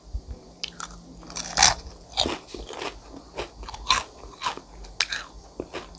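Crisp, crackly crunches from repeated bites and chewing of fried chicken skin, close and loud, in an irregular rhythm with short pauses between.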